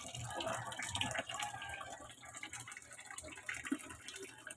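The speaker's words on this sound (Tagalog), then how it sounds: "Mahinang tubig eh." Weak trickle of water running from a tap, a thin, faint flow heard close up amid some background activity.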